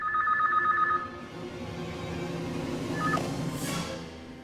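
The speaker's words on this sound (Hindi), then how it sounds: "लो जी, इस वक्त किसका फोन आया होगा?" A telephone rings in a scene from an Indian television drama: a short electronic ring burst, a pause, then a second brief ring over a low background bed.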